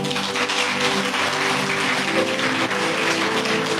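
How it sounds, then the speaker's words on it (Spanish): Dense, steady applause from a large church congregation fills the space, with sustained tones from instruments held underneath throughout. "Un aplauso al Señor."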